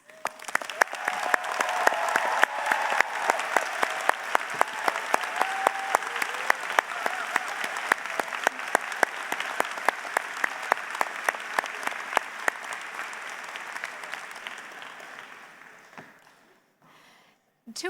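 Sustained applause from a large graduation ceremony audience at Durham College, dense and steady for about fifteen seconds, then fading quickly to near silence with a brief final burst at the very end.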